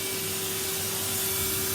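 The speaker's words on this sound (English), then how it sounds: "We're done vacuuming now." A vacuum cleaner runs steadily nearby, a constant whining motor hum with airy hiss and no change in pitch, no voices.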